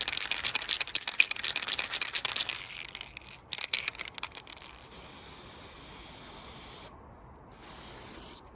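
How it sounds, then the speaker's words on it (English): A spray paint can sprays a Ruger 10/22 rifle butt plate hung from wire on a twig outdoors, with short crackling bursts of aerosol hiss followed by longer steady sprays separated by brief pauses. "we shall give it a quick spray up and see how we get on"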